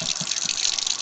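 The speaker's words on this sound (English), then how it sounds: "I will add some mountain water" Mountain water gushes into a blender jar for making wheatgrass juice, a brief steady pour heard up close.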